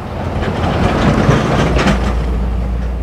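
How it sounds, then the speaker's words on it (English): A heavy rumbling roar of a large quarry truck passing nearby on a Welsh road, loud and continuous with a deep low drone, no voices. "that noise you're hearing in the background is a bloody great truck"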